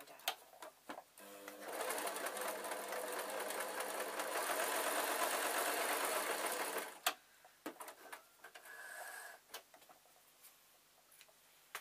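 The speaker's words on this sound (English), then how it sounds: "I'm just going to run some stitches along there and then turn it inside out." A sewing machine runs a steady stitching burst of about five seconds on a stuffed toy raven's beak, close and loud, followed by a few short stops, clicks and brief restarts.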